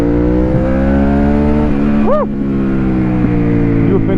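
A Suzuki SV650 or Kawasaki ER-6n motorcycle accelerates with a steady, loud engine drone. Its pitch holds and then swells briefly before settling back into an even roar.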